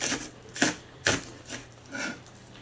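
A knife chops food on a cutting board in a home kitchen, giving about five separate, fairly soft knocks spaced roughly half a second apart.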